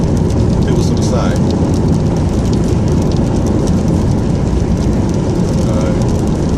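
Heavy rain pours outside in a steady, dense hiss that fills the whole stretch without a break, loud and close.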